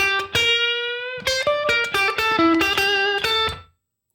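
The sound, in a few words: electric guitar blues lick, neck pickup, Fender Tortuga pick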